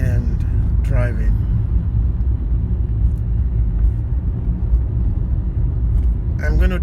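Car driving, heard from inside the cabin as a steady low road rumble and engine drone that runs throughout, with a person's voice speaking briefly over it at the start and end.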